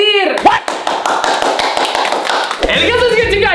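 Rapid, rhythmic clapping of hands, loud and close, with lively voices and chatter layered over it.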